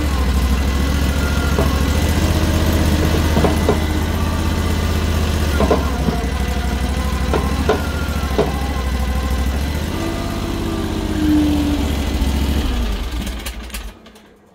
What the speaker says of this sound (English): that was the controls fully forward at idle